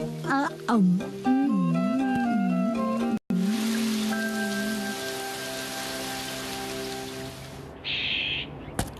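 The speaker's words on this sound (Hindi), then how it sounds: "अरे वाह, बारिश भी रुक गई।" Rain falls in a Hindi-dubbed Shinchan cartoon: voices talk for the first few seconds, then a steady, fairly loud rain hiss fills most of the clip before fading near the end.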